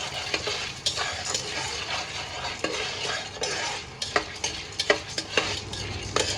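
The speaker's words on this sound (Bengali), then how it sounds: "তো আমি এরপর লবণ দেওয়ার পর এটা আমি হালকা ভেজে নিব 1-2 মিনিটের" Popcorn corn kernels with salt are stirred and fried in a pot over medium heat, producing busy rattling, scraping clicks of kernels and utensil against metal over a low sizzle.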